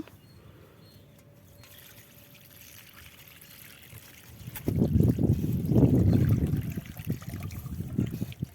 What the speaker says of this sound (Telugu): ఇప్పుడు ఆ బియ్యం కడిగిన నీళ్ళు, మజ్జిగ పోసేస్తున్నా దీంట్లో.